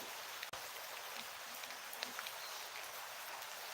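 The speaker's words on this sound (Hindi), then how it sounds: "बारिश फिर शुरू हो गई है।" Steady rain falling outdoors during the rainy season, an even, dense hiss with occasional soft drop ticks, no talking.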